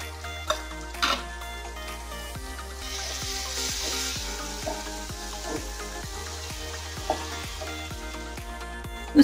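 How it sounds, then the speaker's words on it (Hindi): Asafoetida, black pepper powder, turmeric and salt fry in hot oil for a potato curry, a soft, steady sizzle punctuated by occasional light clicks and taps from stirring. "सभी चीजें अच्छे से फ्राई होने के बाद हम डालेंगे हींग और एक काला मिर्च पाउडर, हल्दी पाउडर और नमक"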